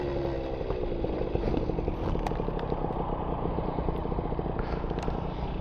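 A motorcycle with its fairings removed runs on a test ride. The engine drones steadily and close by, with a constant rumble and some mechanical clatter, and no voices.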